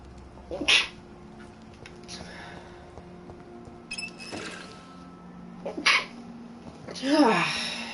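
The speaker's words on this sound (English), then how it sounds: "Fucking sneezing. Hate allergies." An allergy sufferer sneezing: several separate sharp, nasal sneezes spread across a few seconds, close and fairly loud, with light breathy sounds between them.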